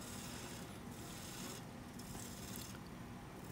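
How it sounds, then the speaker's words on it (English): A turning tool peels shavings off a pear wood blank spinning on a lathe, giving a continuous, steady rough hiss and rasp at close range with no pauses. "The shavings are peeling off."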